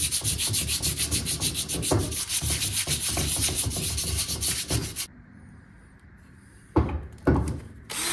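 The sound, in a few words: hand sanding engine part with 220-grit sandpaper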